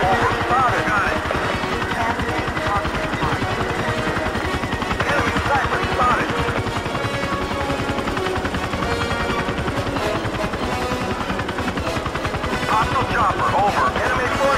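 A steady, dense helicopter rotor roar from the video game Battlefield 2 runs throughout, loud and continuous, with sharp popping bursts mixed in.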